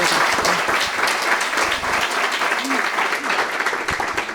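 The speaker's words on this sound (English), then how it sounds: "Round of applause for" Audience applause at a literary awards ceremony, a steady crowd of clapping hands with voices faintly mixed in and a brief vocal sound partway through.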